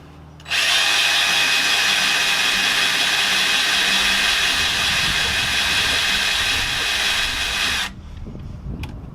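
A power drill spinning the oil pump on a brand-new Ford 351M engine to prime the oil, a loud steady whine starting abruptly, running about seven seconds, then cutting off.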